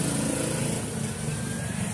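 A Motor Star 125 motorcycle engine runs on battery power, a steady, buzzy idle that drones on without a break, close and fairly loud, with no talk over it.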